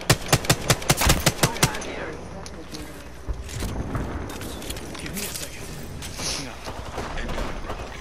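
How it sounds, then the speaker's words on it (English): A quick run of sharp, evenly spaced automatic gunshots from Apex Legends opens loud and close, then gives way to scattered shots, mechanical clatter and steady talk from players. "Give him some covering fire."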